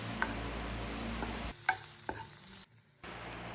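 A spoon stirs chopped tomato with turmeric, coriander and chili powder and salt in a hot pan while cooking stuffed squid, giving a steady close sizzle with a few sharp scraping clicks, then a brief near-silent pause before the frying resumes; no voices.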